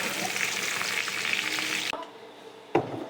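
Potatoes and pointed gourd frying together in a pan, a loud dense sizzle for about two seconds that suddenly drops to a quieter crackle, with a stirring clatter near the end.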